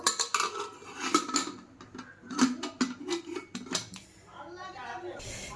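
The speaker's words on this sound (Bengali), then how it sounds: "তো এই যে ঢাকনাটা আটকে দেব" A metal lid is clattered and fastened onto a cooking pot holding salted food and three washed green chillies, giving a run of close, sharp clanks and scrapes with a voice faintly in the background.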